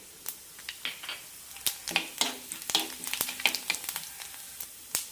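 Cumin seeds added to hot coconut oil after mustard seeds have popped, a faint close sizzle with scattered sharp pops and crackles that cluster in the middle and thin out toward the end.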